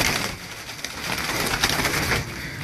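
Pigeons kept by a hobbyist coo softly in a loft, with low murmuring calls repeating against a noisy, hissy background and no talk.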